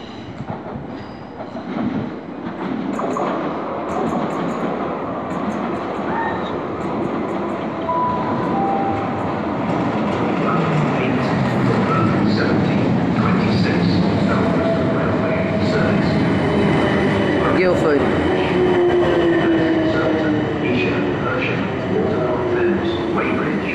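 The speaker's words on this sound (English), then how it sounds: "class 455 leaving Wimbledon" A Class 455 electric train leaving Wimbledon station pulls away with a steady rising hum and rumble, wheels clattering faintly, while a high whine slides upward as it gathers speed nearby.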